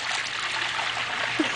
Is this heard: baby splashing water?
yes